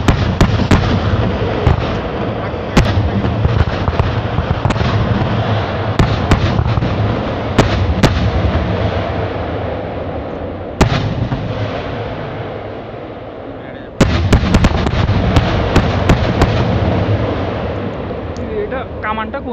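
Bangladesh Army anti-aircraft artillery fires at drone targets during a night exercise, shells bursting in the sky as repeated sharp booms and cracks over a constant loud rumble, with people talking throughout.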